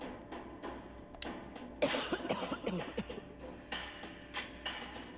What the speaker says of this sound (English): Just coughing.